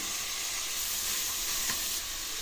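Bottle gourd curry with ginger-garlic paste being stirred in a hot pan, giving a steady, even sizzling hiss close up that runs without a break.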